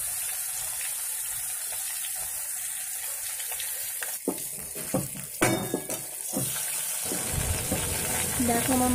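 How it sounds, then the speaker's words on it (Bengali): Fish fries in a hot wok in a home kitchen, giving a steady sizzling hiss that gives way to clattering and handling noises, with faint background sounds throughout. "দেখো আমার মাছ ভাজা হয়ে এসেছে অলরেডি"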